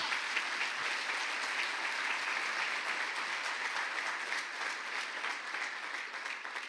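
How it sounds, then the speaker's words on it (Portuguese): A church congregation applauds together during a worship service, steady, dense clapping that stays loud and even from start to finish with no talk over it. "Dê um aplauso ao Espírito Santo."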